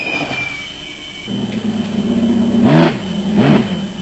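An off-road race car, a Raceco type, drives past with a rising engine note that builds and peaks close by, its revs sweeping up and down twice in quick succession.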